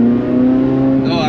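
Exhaust note of a Corvette C8 Z06 at idle, a steady close, loud low drone with a brief rise in pitch near the end, as if a light blip of the throttle.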